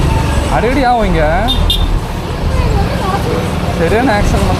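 Congested road traffic piles up after an accident near Vangal, Karur, with vehicle engines rumbling and horns tooting in wavering, siren-like tones over a steady din, under close talk.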